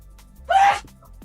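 A single short, sharp sneeze, close and sudden, lasting under half a second against near silence.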